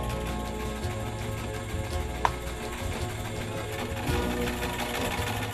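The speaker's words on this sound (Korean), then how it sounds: "안악들이 옷을 지을 땐 마을 공용인 이 재봉틀을 사용한다고 합니다" A shared village sewing machine in an Amazon tribal village runs steadily nearby, its rapid needle chatter continuous and rhythmic, briefly slowing before picking back up.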